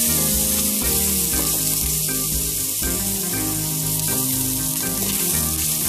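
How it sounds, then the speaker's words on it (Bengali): Chicken breast and beef pieces hit a hot pan of lightly fried chopped garlic for mixed Chinese noodles, giving a loud, continuous hissing sizzle with faint rhythmic clatter underneath. "এখন দিয়ে দিলাম চিকেন, বুকের মাংস যেটা। দিয়ে দিচ্ছি গরুর মাংসটা।"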